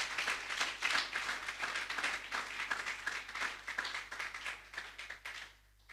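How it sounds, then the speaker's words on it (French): A church congregation claps and applauds for the Lord in a steady, dense wash of hand claps that gradually fades away toward the end, with no one speaking. "Est-ce qu'on peut acclamer très fort pour le Seigneur ce matin?"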